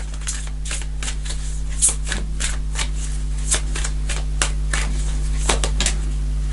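Tarot cards being shuffled and drawn during a reading, a steady run of crisp riffling snaps and flicks over a constant low hum, with a few sharper card slaps standing out, close and moderately loud.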